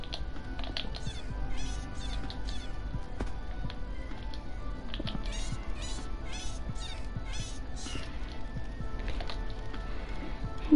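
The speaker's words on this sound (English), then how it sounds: "does the kitten sound like it's constipated?" A kitten meowing in a video game, repeated short strained meows scattered over a low hum, along with clicks and faint tapping.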